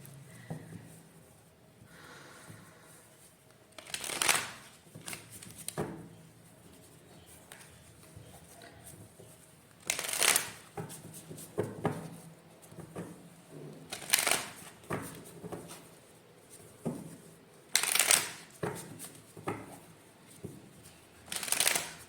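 Tarot cards being shuffled in bursts: several loud, close riffles separated by quieter stretches of handling and soft rustling, with no speech.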